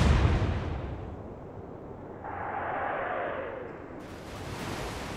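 Naval gunfire from a fleet of warships in the Atlantic Fleet game: a heavy, rumbling low boom at the start fades into a sustained wash of noise and distant rolling rumble, with no talking.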